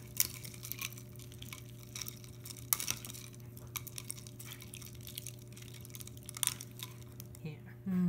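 Black beans and lotus roots in coconut milk being stirred in a glass: soft, quiet clinks and liquid swishes, repeated irregularly, with a louder clink near the end.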